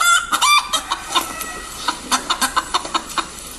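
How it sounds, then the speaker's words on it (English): A recorded chicken clucking in a series of short, sharp, uneven bursts, with a couple of louder squawks at the start followed by quicker clucks; close and alone, no talking. "That's a chicken in pain."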